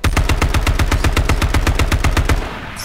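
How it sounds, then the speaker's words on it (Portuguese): A rapid, even volley of about twenty loud close gunshots from H1Z1 battle royale gameplay fires in an unbroken run, then cuts off near the end. "o cara tá atirando de 12 em mim?"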